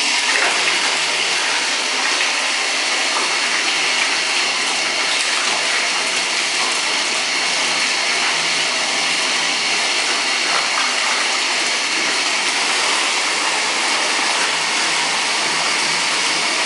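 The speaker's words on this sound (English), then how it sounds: "Let me go ahead and turn on my water." Water gushes steadily from a tap into a bathtub, a loud, constant broadband rush that holds without a break.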